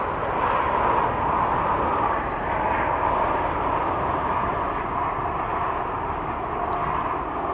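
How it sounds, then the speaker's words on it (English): Marine One with its decoy helicopter and Osprey tiltrotor aircraft pass over Fort McNair in Washington, a loud continuous roaring drone that holds steady and fills the whole stretch without a break. "Marine 1 and its decoy backup helicopter have left Fort McNair, followed by 2 Ospreys full of press and 1 Osprey full of staff"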